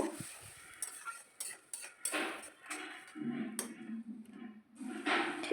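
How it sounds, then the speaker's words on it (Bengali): Spice paste is stirred and fried in a pan: a spoon scrapes and clinks against the metal in irregular strokes while a soft sizzle swells up between them, close by and fairly quiet. "এবার মশলাটা খুব ভালো করে কষিয়ে নেব।"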